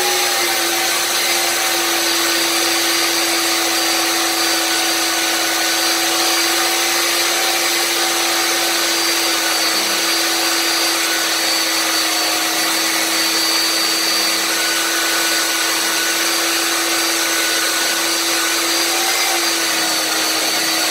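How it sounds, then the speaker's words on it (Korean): A magnetic drill bores a hole in steel plate, a loud steady motor whine with a constant high-pitched tone holding evenly throughout, no talk. "자, 그러면 여기서 한번 구멍을 뚫어 보도록 하겠습니다."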